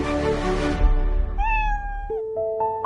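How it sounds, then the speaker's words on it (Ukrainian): A cartoon kitten meows long and mournfully, alone after being put out of the house; a noisy stretch gives way to clear, drawn-out cries that rise and fall, close and fairly loud. "кошеня довго і сумно нявкало"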